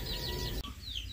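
A crested hen with her two newly hatched chicks makes a short burst of soft clucking close by, with faint high chick peeps alongside.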